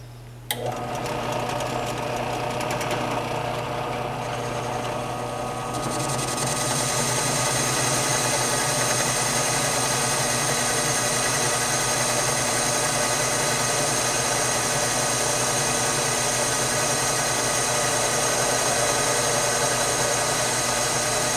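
A homemade lathe runs continuously, a steady loud mechanical whir with a buzzing hum that picks up after a few seconds and holds evenly throughout, with no talking.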